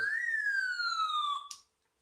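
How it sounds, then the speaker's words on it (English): A single siren sound effect plays alone: a loud, bright electronic wail that slides slowly downward for about a second and a half, then cuts off into silence. "Sirens are coming on."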